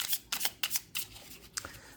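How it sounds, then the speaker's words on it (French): A tarot card is drawn from the deck: a handful of crisp, close card slides and flicks in uneven bursts, clear and unaccompanied by speech. "Je vais quand même tirer une carte un peu."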